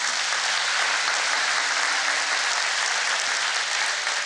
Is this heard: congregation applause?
yes